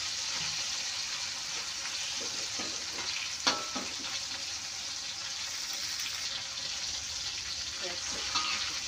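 Food fries in a pan with a continuous hiss and crackle, punctuated by occasional clinks and stirring sounds, fairly close and steady throughout.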